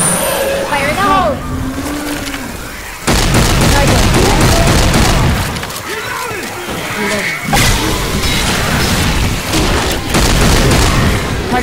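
In Left 4 Dead 2, a thrown grenade goes off in a loud, booming blast that rumbles and then gives way to gunfire and chaotic noise, with several bursts rising and falling over a voice shouting in-game.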